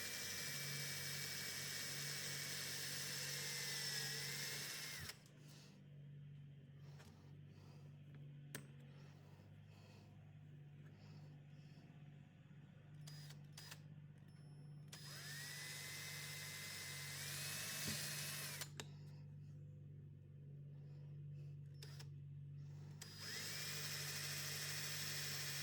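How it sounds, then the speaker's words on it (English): A cordless rotary tool whirs in high-pitched bursts while chamfering pin holes in a knife handle, three runs separated by quiet pauses, close and fairly soft. "I'm using my cordless rotary tool to chamfer these holes"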